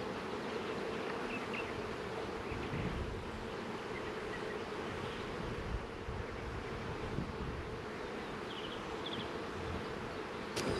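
Honey bees buzz around an open hive during spring setup of single deep boxes, a dense, steady drone that stays close and constant throughout, with light wind noise and no talking.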